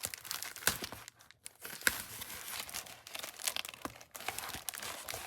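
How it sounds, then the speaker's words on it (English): Taped plastic packaging being pulled apart and unwrapped, a quiet, close stream of crinkling and tearing with brief pauses and sharper snaps, no voices. "you get to watch me fight with packaging"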